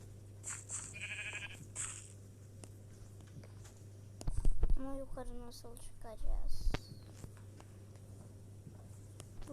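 Minecraft sheep bleat in a couple of short wavering bursts midway, over a low electronic hum, with faint game sounds early on.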